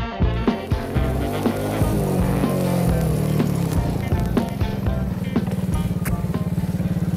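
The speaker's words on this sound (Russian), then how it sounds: "Его четырехтактный одноцилиндровый мотор развивает 6 лошадиных сил на 7 тысячах оборотов в минуту" A four-stroke single-cylinder mini-motorcycle engine of 100 cc and six horsepower runs steadily and loudly close by, with a continuous throbbing idle and slight revving.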